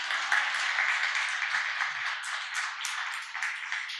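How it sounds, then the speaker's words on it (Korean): A church congregation applauds together, a steady dense patter of many hands clapping continuously at moderate loudness, with no voices over it. "박수 좀 쳐주세요."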